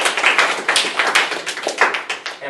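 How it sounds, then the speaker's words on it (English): A classroom group claps together in a round of applause, a dense, loud burst of hand claps that keeps going steadily for the whole span. "let's give ourselves a round of applause here"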